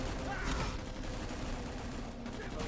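A volley of grenades fired from a grenade launcher in the sci-fi shooter Anvil: Vault Breakers, a fairly quiet, dense burst of rapid impacts and rattling reports against steady background noise.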